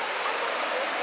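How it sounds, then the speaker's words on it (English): Waterfall beside a hiking trail, a dense, constant rushing hiss of falling water that fills the short stretch evenly, close and fairly loud with no voices over it. "Waterfall right there."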